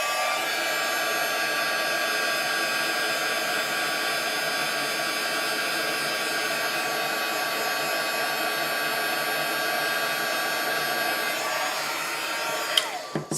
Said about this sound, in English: I'm going to turn it on